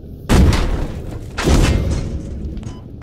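Two heavy cannon booms from an armored vehicle firing on a tank in Squad, each a loud close blast with a rolling tail, about a second apart.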